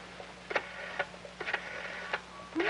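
An old telephone is dialed in a quiet room, a series of short clicks and ticks spaced irregularly, with a soft whir between them.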